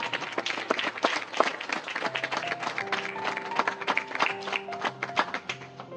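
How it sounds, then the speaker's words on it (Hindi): Loud, rapid clapping fills a church thanksgiving meeting hall, many hands beating steadily and close, with a sustained keyboard or organ tone running underneath throughout. "जोर से ताली जाके प्रभु को मिलेगी"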